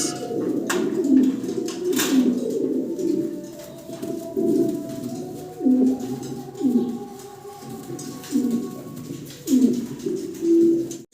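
Three fancy pigeons coo close by in repeated low, throaty phrases at a steady rhythm, overlapping one another, with faint background noise.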